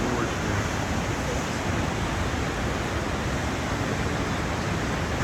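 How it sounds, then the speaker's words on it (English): River water rushing through a rocky gorge beneath a bridge in Jasper, Alberta, a constant loud roar of churning water with no pauses. "You can see the water running through the gorge there."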